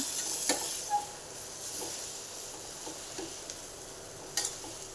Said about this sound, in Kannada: ನಾವು ಬೇಯಿಸಿಟ್ಕೊಂಡಂಥ ನುಗ್ಗಿಕಾಯಿ ಹಾಕ್ಕೊತಾ ಇದ್ದೀನಿ ಈಗ ತೀರಾ ಮಿಕ್ಸ್ ಮಾಡ್ಕೊಳ್ಳೋಣ